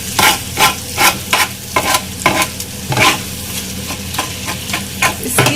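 Street-style kata kat cooking on high flame, spices and black pepper powder being stirred and chopped in a hot pan, with rhythmic loud metallic strikes roughly every half second over a constant sizzle, close up.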